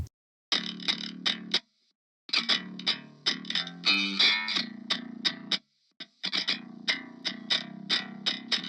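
Metal djent bass high track made with Logic Pro X plugins: a heavily distorted, bright, buzzy bass playing tight chugging riffs in rhythmic bursts with short gaps, loud and alone.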